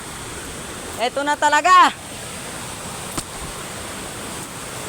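A waterfall roars as a steady, broad rush of falling water that fills the background throughout, while someone talks briefly near the start.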